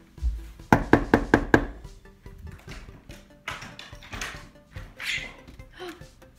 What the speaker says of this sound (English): I can knock on the door and answer it.